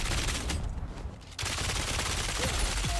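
Rapid submachine gun bursts ring out in the Dune: Awakening video game, loud continuous automatic fire with a short lull near the middle before the shooting resumes.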